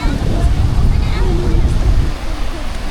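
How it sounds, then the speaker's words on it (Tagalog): Surf rolling onto Tallag Beach in Gonzaga, Cagayan Valley, a steady loud wash of waves mixed with strong wind buffeting the microphone, with voices faintly present underneath. "Yan na yung alon."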